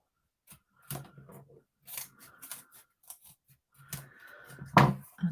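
Scissors snip through paper during stamp-set card crafting: a series of close, crisp cuts in irregular bursts with short pauses between.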